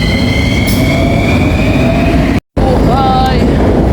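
Steady rumble of a commuter train in the Philippines, heard from aboard with a continuous loud roar, a brief dropout, then rising whine and squealing tones as it moves.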